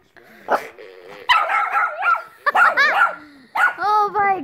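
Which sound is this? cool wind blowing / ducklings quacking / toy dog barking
toy dog barking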